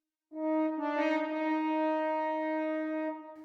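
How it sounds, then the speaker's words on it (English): Orchestral melody phrase dipping down a half step and rising back, sustained tones with rich harmonics swelling in around the first second and holding steady, clear and alone. "we have this little phrase that moves down a half step and back up"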